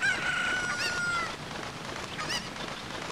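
A chicken in the video game Zelda: Ocarina of Time gives a shrill crowing, clucking call at the start, followed by quieter squawks, all sounding without talk.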